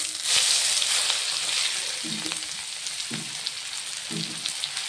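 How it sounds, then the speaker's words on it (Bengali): Chopped onions and a bay leaf fry in hot oil, giving a steady crackling sizzle with a few soft scraping stirs. A faint voice is heard once or twice. "বেশ লাল করে বাদামি করে ভেজে নেব বন্ধুরা পেঁয়াজগুলো"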